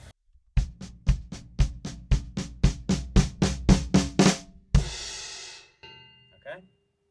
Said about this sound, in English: and we're on the floor tom and snare drum,